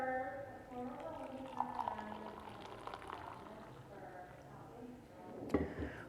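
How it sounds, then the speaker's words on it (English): Coffee brewed from Ethiopian beans is plunged and poured from a French press, giving a soft liquid gurgle and trickle with a brief sharper splash near the end, fairly quiet and close. "Gonna plunge this fully through, and then you can pour yourself a cup."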